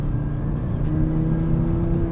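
A 2018 Audi RS3's 2.5-liter turbocharged five-cylinder engine spooling up inside the cabin, a steady low droning hum with a faint rising whir, no talking.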